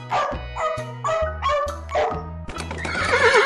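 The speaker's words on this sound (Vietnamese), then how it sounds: "Con ngựa vằn." A zebra calls with a series of rapid, harsh barking brays in a pulsing rhythm over a steady low musical hum, growing noisier toward the end.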